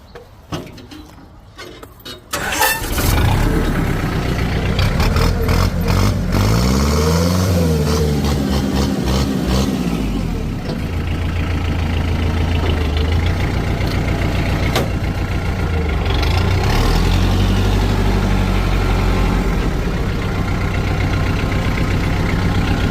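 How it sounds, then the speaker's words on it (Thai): A 2009 Kubota M5000SU four-wheel-drive diesel tractor engine cranks and catches, then settles into a loud, steady idle with a deep rumble and occasional revs, running continuously up close. "มาฟังเสียงเครื่องยนต์กันเลย"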